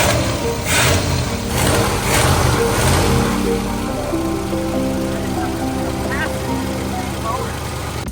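A 1969 Cadillac engine runs steadily on its own, a continuous low rumble at idle with a few rises in revs early on, close by, with a voice speaking over it.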